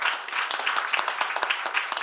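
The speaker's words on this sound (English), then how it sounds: "we can give them one more applause to all of our winners" Audience at a Circle U. Days award ceremony applauds its winners, a steady, fairly close round of many hands clapping with a few sharper individual claps standing out.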